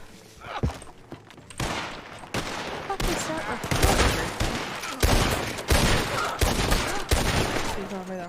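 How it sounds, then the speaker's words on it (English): Gunfire crackles from distant hills in the RedM western roleplay game: repeated sharp shots and short bursts over several seconds, mixed with ambient game noise and some voice chatter. "There's one up in the hills shooting."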